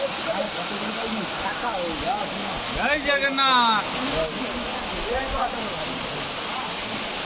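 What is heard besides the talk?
waterfall at Sitakunda, Baripada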